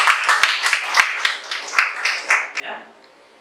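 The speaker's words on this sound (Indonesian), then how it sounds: "kasih tepuk tangan dulu" Classroom audience clapping in a school lesson setting, a run of sharp hand claps at close range that thins out and fades toward silence.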